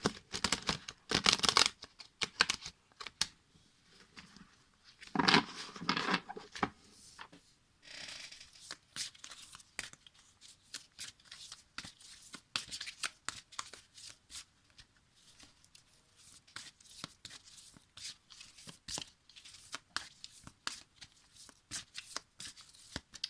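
Guardian angel tarot cards are shuffled by hand in close, crisp riffling bursts, with quieter flicks and taps of the cards in between.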